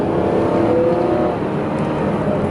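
Engine of a 2010 Chrysler Town & Country minivan accelerating, heard from inside as a steady, loud droning hum with a slight rise in pitch.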